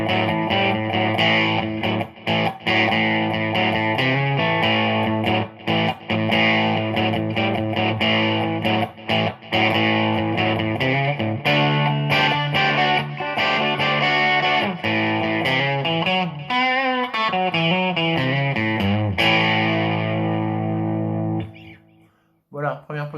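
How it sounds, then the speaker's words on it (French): A 1988 Kramer US Neptune electric guitar on the humbucker in first position plays a clean, lightly reverberant melody with chords and single notes, steady and close, fading out at the end. "première position avec le humbucker et on est en son clean avec juste un peu de reverb"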